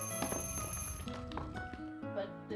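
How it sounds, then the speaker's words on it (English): An alarm clock belonging to a bear rings inside Kirby's Epic Yarn, a bright, continuous jangling bell that runs throughout over dense game music, with voices talking over it. "What kind of bear has an alarm clock?"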